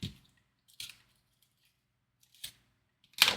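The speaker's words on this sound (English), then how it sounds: "Go ahead and cut that off" Scissors snip through double-sided tape in four crisp, separate cuts spaced out over a few seconds, close and clear with quiet gaps between.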